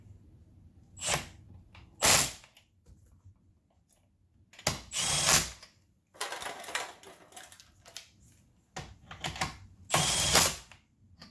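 A trigger-operated power tool used for brake and wheel work runs in short bursts of whirring and ratcheting, each cutting off abruptly as it meets resistance, with quiet gaps between the loud bursts.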